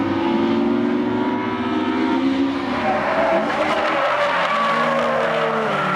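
A Toyota AE86 Levin drifts around a track, its engine droning loud and steady while tires skid and squeal through a long slide, the pitch shifting as the car swings through the corner.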